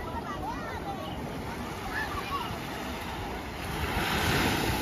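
Sea waves wash and roll onto a stony beach at İncekum, Alanya, Turkey, in a steady hiss, with wind buffeting the microphone; the surf grows louder toward the end.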